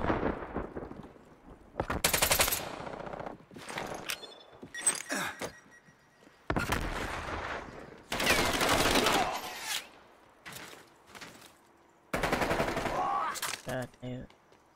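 QBZ-83 rifle fire in the game Black Ops Cold War, loud close bursts of rapid automatic shots separated by short pauses, with someone talking in between.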